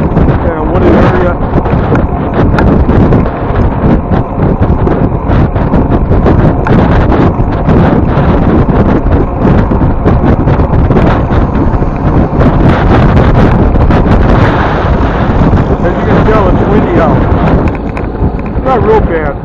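Crosswind of about 5-10 mph roars against the microphone while cycling the Oak Leaf/Oak Creek Trail through marsh and woodland; dense, continuous buffeting rumble that stays loud and steady throughout.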